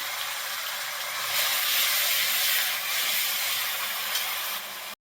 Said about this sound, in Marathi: कांद्याची पेस्ट चांगली भाजून घ्यायची बघा.